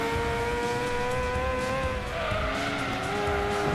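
An Opel Calibra race car in Gran Turismo 2 drones with a sustained engine tone that shifts pitch midway, with faint tyre squeal over a steady roar and no voices.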